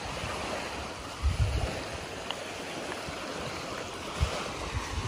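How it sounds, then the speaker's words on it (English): Steady wash of surf on Kalamaki Beach on Zakynthos island, a constant broad rush with a couple of slightly louder swells, heard alone without speech. "So this is Kalamaki Beach"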